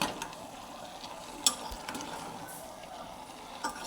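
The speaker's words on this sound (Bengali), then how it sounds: "খুব সুন্দর করে নাড়াচাড়া করে নেব" Desi goat mutton curry with green chillies is stirred in a pan, with scattered scraping clicks of the spoon over a steady, soft sizzle, close up.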